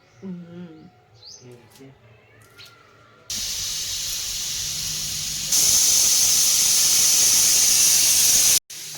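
Talking gives way to a loud, steady steam hiss from a pressure cooker of vegetables for pav bhaji, growing stronger partway through and cutting off abruptly near the end.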